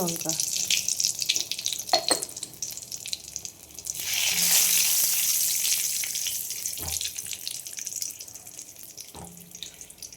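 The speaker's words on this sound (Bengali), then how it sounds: "এবার আমি কড়াই তেল দিয়েছি জিরে ফোড়ন দিয়ে দিলাম দুটো তেজপাতা শুকনো" Hot oil sizzles loudly in a wok, the crackle swelling midway as cumin, bay leaves and dried chilli hit it for moong dal, with a few thuds and clinks around it.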